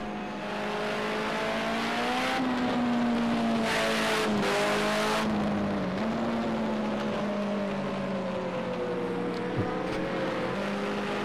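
A Mitsubishi Lancer Evolution VI racing car in the Project Cars 2 video game drones steadily at the Oschersleben circuit, its engine note rising and dipping through gear changes with faint tyre noise, continuous and loud.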